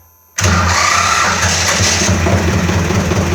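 After a brief quiet moment, the D-21 diesel engine of a T-16 tractor cranks and catches, settling into a loud, throbbing idle close by.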